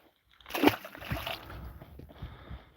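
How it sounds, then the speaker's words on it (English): A pickerel released back into a Maine lake lands with a single sharp splash, followed by softer sloshing and trickling water near a boat, with faint voices in the background. "Put that back in the water."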